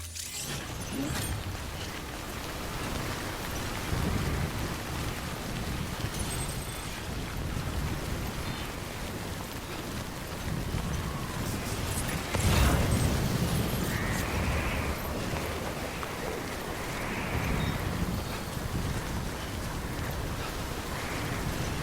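Steady rain and strong gusting wind in the video game Death Stranding make a dense, continuous rushing wash that holds loud and even, with a brief heavier burst midway and no speech over it.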